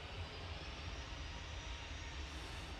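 A Ryanair Boeing 737-800 rolls for takeoff at Manchester Airport, its engines giving a steady, broad roar that stays fairly distant and even, with no voices.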